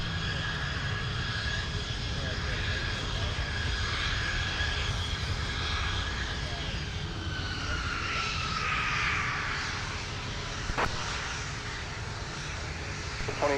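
An airliner climbing out after takeoff from runway 17 at Minneapolis–St. Paul airport, its steady engine roar and falling whine receding into the distance, continuous and moderately loud.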